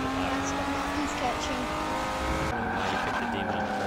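Car drifting with tire squeal in Forza Motorsport 7, a steady engine drone with screeching tires that continues throughout, loud and close.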